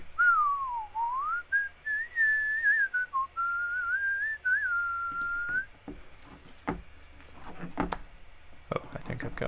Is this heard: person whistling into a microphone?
yes